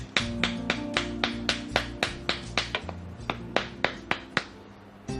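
Repeated slapping of a perfume bottle against the palm to mix oil and chemical, about fifteen sharp close taps in a steady, slightly uneven rhythm, with no talking.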